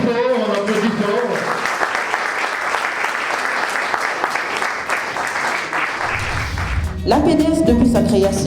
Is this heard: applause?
yes